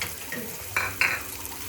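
Onions being sautéed in a pan for homemade ramen, a soft continuous sizzle with a couple of brief louder bursts of stirring, close and steady with no talk.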